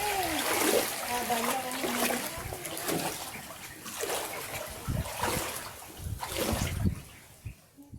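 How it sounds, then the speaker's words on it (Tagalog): People splash in sea water on an island tour, irregular nearby splashes and sloshing mixed with voices talking and calling out. "Let's go swimming."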